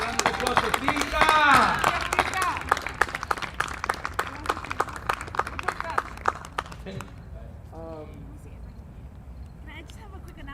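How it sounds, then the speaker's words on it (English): An audience at a bomba dance and drum event gives a round of scattered, sharp claps that thin out and fade, with people talking over and after the clapping. "round of applause for Tita"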